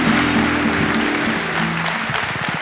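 A studio audience claps for the world's tallest man after a record is mentioned, a steady clapping wash that softens toward the end, with a voice briefly heard over it.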